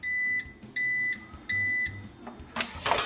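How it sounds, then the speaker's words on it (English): Three evenly spaced electronic beeps from an air fryer ring out clearly, followed by a brief clatter of handling noise. "Should hear a little beep, beep, beep here in 1 second."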